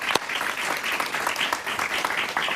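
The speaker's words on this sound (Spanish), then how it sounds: "Un aplauso para él." A television talk-show studio audience bursts into steady, enthusiastic applause, dense clapping that carries on without pause.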